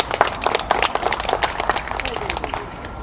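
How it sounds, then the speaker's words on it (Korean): Scattered clapping from an audience at a Korean founding ceremony, uneven and fairly close, thinning out toward the end. "다시 한번 큰 박수 부탁드리겠습니다."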